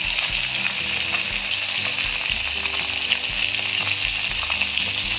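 Spinach stir-frying in a wok with mushroom sauce, a loud continuous sizzle with rhythmic low scraping and tossing of the spatula throughout, no talking.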